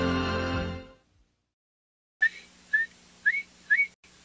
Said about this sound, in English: Whistling can turn your work into play.